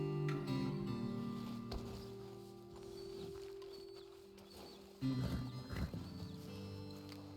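Horses in Red Dead Redemption 2 shuffle and clip-clop on the ground near a roadside ledge, with a short whinny among the hoofbeats and a low ambient hum behind.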